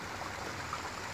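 Creek water flows steadily through the woods at the site of an old 1800s mill, a soft continuous wash and trickle with no talking.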